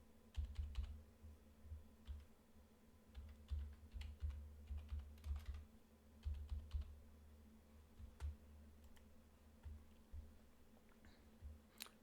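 A password is typed on a computer keyboard in quick, soft bursts of keystrokes with short pauses, quiet and close in a calm room.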